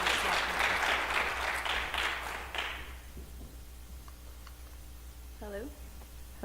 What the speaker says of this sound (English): Please give a round of applause for Jaclyn Wright for being here.